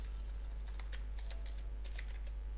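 Fast, steady keystrokes clatter on a computer keyboard, a run of close, crisp clicks over a low constant hum, with no talking.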